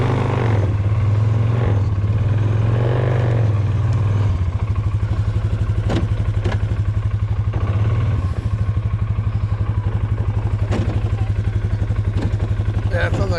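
A quad ATV engine idles and runs close by with a steady low throbbing drone and a fluctuating pitch, occasional knocks and clatter, while people talk over it.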